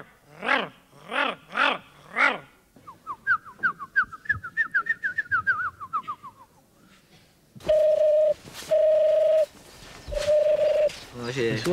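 A person imitates bird song, mimicking a European turtle dove and a Eurasian golden oriole at a bird song contest: rhythmic purring coos, a rapid run of whistled trills, then several long, loud, pure whistled notes.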